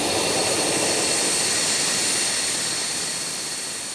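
An easyJet jet airliner taxis and turns at an airport, its engines giving a loud, steady roar with a broad whine that fades slightly near the end. No voices are heard.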